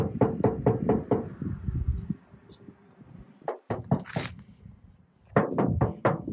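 Two bursts of rapid, hollow knocks on the thin, hollow lightweight alloy door of a 2003 Subaru Impreza WRX STi Spec C, five or six raps each, separated by a quieter pause with a few scattered taps.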